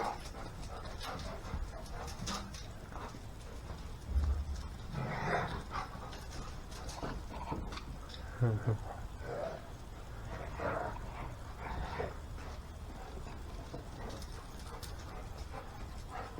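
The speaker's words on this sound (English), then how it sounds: "And my dogs are going crazy." Dogs barking and scuffling in a rough play-fight, several sharp barks and growly bursts scattered over a mechanical ratcheting and clanking background, fairly close.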